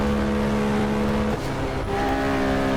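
In-car view of a race car at the 1970 24 Hours of Daytona sweeping past slower Porsche 911s: a loud, steady engine drone with harmonic tones that shift midway as the overtake happens, no talking.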